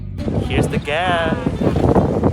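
Gusty wind buffets the microphone in low rumbling bursts while a person speaks briefly over it.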